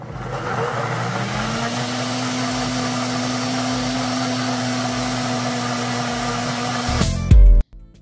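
A blender whirring steadily as it mixes hair oil with amla and blue butterfly pea flower tea, a constant loud motor drone that spins up at the start and cuts off abruptly near the end.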